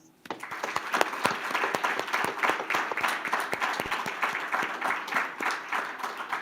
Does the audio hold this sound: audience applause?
yes